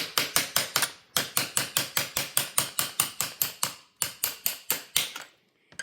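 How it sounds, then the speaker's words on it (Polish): A small hammer taps out a stuck ski binding axle held by anaerobic glue, giving a fast, steady run of sharp metallic knocks in two bursts with a short pause between them, close and loud. "Puknąć młoteczkiem, tutaj mam młoteczek, żeby wyjąć oś"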